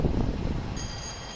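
Flying Scotsman steam locomotive running at high speed in Train Simulator Classic, a steady loud broadband rumble with rushing noise and a faint high whine joining partway through.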